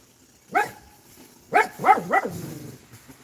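A female dog barks close by: one bark, a pause, then three quick barks in a row that trail off into quiet, with no voices.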